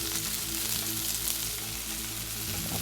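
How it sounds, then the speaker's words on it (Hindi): Long-sliced onion sizzles and fries in a pan as a steady, fairly quiet hiss with light crackle throughout, no one speaking. "मैंने एक प्याज को लंबे स्लाइसेस में काट लिया है, उसे भी डाल के फ्राई कर लेंगे।"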